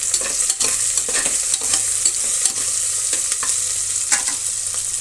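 Diced potatoes, onions and Sona Masoori rice frying in a pan, a loud close sizzle with brisk, repeated stirring scrapes throughout, no talking.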